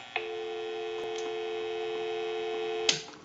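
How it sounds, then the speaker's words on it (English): Dial tone from an AE Space Maker 183 telephone, a steady, clean tone holding for about three seconds between two clicks of the line. "We'll give you some dial tone."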